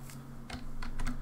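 Soft computer keyboard typing while code is copied, a few quick clustered keystrokes tapping over a faint steady hum, close and quiet.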